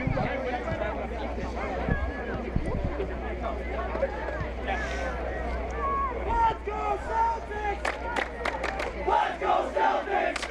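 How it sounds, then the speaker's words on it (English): A student section chants and cheers in rhythmic unison at a Western Mass girls varsity soccer final, a loud crowd roar with a clapping pulse and mixed voices. "It sounds like the Belchertown student section changing it up a little bit and cheering on the Celtics."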